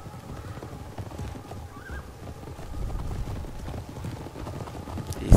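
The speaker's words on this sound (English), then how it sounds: "These are Turkopole horse archers." Turkopole horse archers' horses in Tsardoms: Total War move as a mass of clip-clopping hooves with an occasional whinny, a dense, steady rumble of cavalry at moderate distance throughout, without talking.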